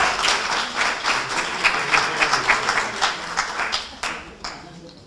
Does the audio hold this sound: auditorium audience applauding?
yes